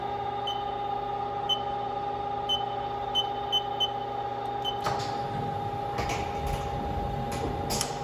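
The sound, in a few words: Haas DM-2 CNC vertical machining center homing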